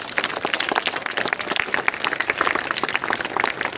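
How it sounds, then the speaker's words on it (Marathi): An audience claps in a steady, moderately loud patter at a school felicitation ceremony, the applause running evenly throughout without voices. "जोरदार टाळ्या वाजवत"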